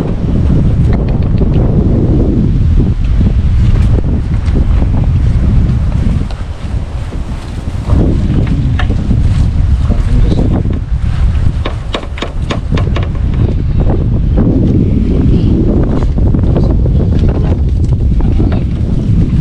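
Loud, constant wind buffeting the microphone on a rainy night at sea, a rough roaring rumble that barely lets up, with water and surf sounds mixed in.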